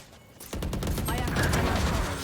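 Gunfire in Valorant: a sustained, loud burst of rapid shots begins after a brief quiet moment and rattles on continuously to the end.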